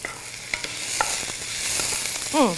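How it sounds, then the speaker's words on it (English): Onions frying in a pan for a Moroccan vegetable dish, stirred with a continuous crackling sizzle and soft scraping taps, up close and without any voices. "Let's give our onions a stir."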